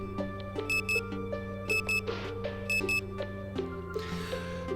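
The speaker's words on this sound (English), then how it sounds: "I sit up and turn my alarm off before stretching." A video game alarm clock beeping in repeated bursts over a steady melodic tone, clear and close.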